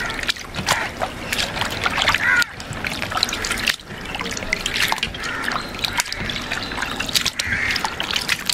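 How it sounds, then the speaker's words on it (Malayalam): Fish being rinsed clean in water by hand, with continuous trickling, splashing and dribbling close by, broken by brief pauses as the pieces are handled and rinsed again. "ഒന്നും കൂടി നമുക്ക് കഴുകിയെടുക്കാം"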